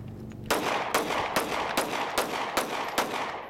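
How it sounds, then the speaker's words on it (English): Rapid string of about eight sharp pistol shots from a Smith & Wesson M&P9 Shield 9mm, evenly spaced roughly every half second, loud and close, with no talking. "Smith & Wesson MMP9 shield. These are the first shots in it."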